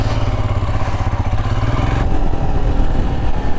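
A 2023 Royal Enfield Himalayan motorcycle engine idles with a close, loud, throbbing low thump, then revs up slightly and holds a rougher, steadier drone.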